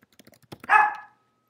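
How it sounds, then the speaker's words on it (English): A single dog bark sounds loudly and close by. Faint tapping comes just before it, like keys on a keyboard. "sorry about the dog"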